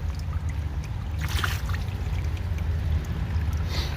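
A hose pours water into a reservoir for a solar-powered pumping setup, giving a continuous splashing gush over low rumble, with a brief louder burst of splashing partway through.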